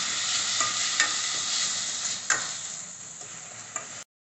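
Ginger garlic paste and onions sautéing in a pan for a Chettinad pepper chicken gravy, a steady close sizzle broken by a few sharp stirring scrapes, fairly loud and continuous before cutting off abruptly near the end.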